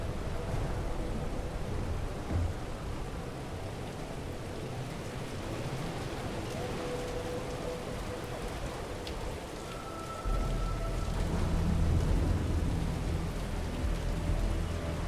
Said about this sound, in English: Place is so raining like crazy,